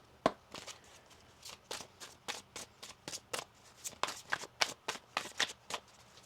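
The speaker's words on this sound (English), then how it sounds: "One more shuffle here." Tarot cards being shuffled by hand, a run of soft riffling flutters and light slaps in quick irregular succession, close but quiet.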